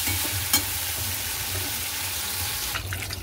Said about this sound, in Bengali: তো এই যে চিংড়ি মাছ ভাজা বসিয়ে দিয়েছি, এগুলো ভাজা হোক